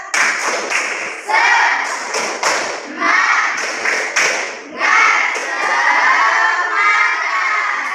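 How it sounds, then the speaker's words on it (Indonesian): A school class performs a rhythmic group clap chant, bursts of claps and thumps in a patterned beat mixed with children's voices chanting together, close and loud. "Oke, tepuk semangat."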